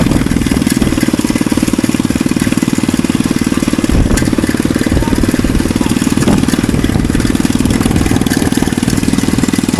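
A motorcycle or tricycle engine runs steadily throughout on a flooded rice field in Bulacan during rain, a continuous close idling chug with a faint background voice.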